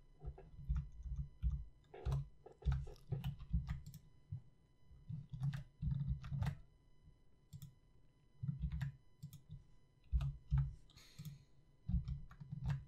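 Keyboard shortcuts tapped out on a computer keyboard while editing Super Smash Bros. Brawl and Project M portrait files: quiet clustered clicks in short bursts with pauses between, over a low steady hum, no talking.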